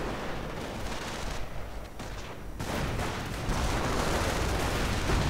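Dense, continuous battlefield din from a World War II strategy game, with heavy machine guns and 37mm fire merging into a steady roar that grows slightly louder toward the end, with no distinct individual shots.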